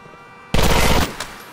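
Gunfire in the video game GTA 4: a loud, rapid burst of automatic shots lasts about half a second, followed by one softer single shot, with no talking.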